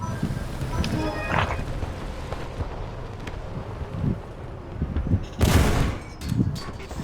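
Gunfire from the War Thunder video game comes in brief bursts and a louder crack near the end, mid-distance and moderately loud, mixed with game background noise and scattered voices.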